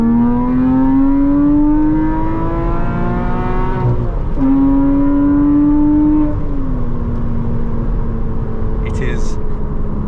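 A car engine with its exhaust valves opened revs hard and loud close by, the pitch climbing and dropping through blips and a sharp downshift crackle, with a brief burst of voice toward the end.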